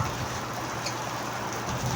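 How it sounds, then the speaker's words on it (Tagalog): Heavy rain pouring down at a betta fish shop, a dense, constant hiss of drops on surfaces, loud and unbroken. "So malakas din talaga ulan dito talaga sa amin mga boss"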